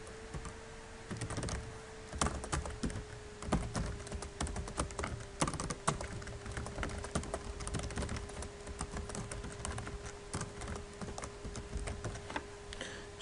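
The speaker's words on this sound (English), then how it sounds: "Type it again." Steady computer keyboard typing with irregular clusters of keystrokes, close and moderately quiet over a low constant hum, no voices.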